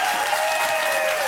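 Studio audience applause at a daytime television talk show, a short, dense, even wash of clapping with no pauses.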